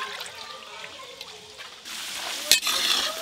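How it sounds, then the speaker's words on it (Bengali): Cashews and raisins fry in hot oil with a soft, even sizzle that swells louder midway, punctuated by a sharp metallic clink from a utensil against the pan, close up with no speech. "কিশমিশ কাজু ভালো করে ভাজা হয়ে গেছে"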